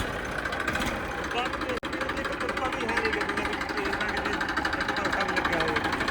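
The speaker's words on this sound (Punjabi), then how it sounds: "ਟਰੈਕਟਰ ਦੀ ਬਾਤ ਤਾਂ ਸੁਣੋ ਬਾਈ ਦਾਣੇ ਗਣਦਾ ਟਰੈਕਟਰ" A tractor engine runs close by with a steady, rapid diesel chugging and knocking rhythm, loud and unbroken apart from one brief dropout.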